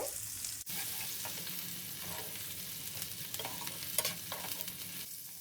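Chopped medium onion sizzles steadily in hot oil, a soft continuous crackle with occasional stirring scrapes, close and fairly quiet, no voices.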